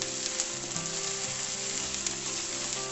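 Banana flower mix sautéing in a pan for cutlets, giving a steady soft sizzle with faint occasional stirring, close and fairly quiet, with no voices.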